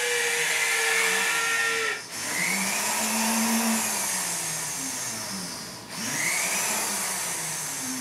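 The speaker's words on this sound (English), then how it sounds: "just take the drill and just drill part ways into it" A power drill whines steadily at high speed, pausing briefly twice as it bites into hard acrylic, loud and close with no talking.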